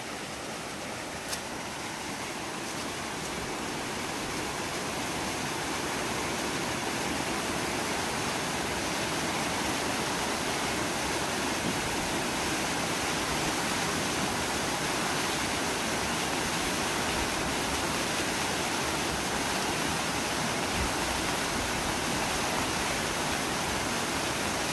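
Floodwater rushing down the swollen Jamda river, a dense continuous roar that stays loud and unbroken throughout with no talk.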